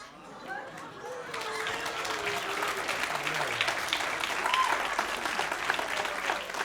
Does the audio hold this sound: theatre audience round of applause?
yes